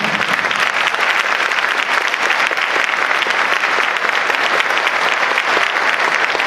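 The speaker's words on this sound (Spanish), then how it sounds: "Un aplauso para el Señor." A congregation at a charismatic Catholic congress breaks into sustained, dense applause, loud and even from start to finish, with faint crowd murmur beneath.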